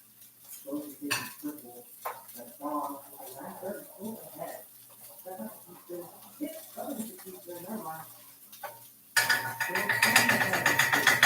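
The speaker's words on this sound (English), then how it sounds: "I'm just heating up my meat" Ground turkey heats in a pan with sun-dried tomatoes and Italian herbs, heard mostly as clinks and scrapes of a utensil under a voice, before a loud sizzle and stirring rise near the end.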